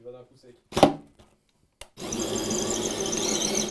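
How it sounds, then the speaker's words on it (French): A drill bores a hole through a wooden desk, first a short spurt, then a steady loud grinding whine for the last couple of seconds, preceded by brief speech. "ça perce vachement bien"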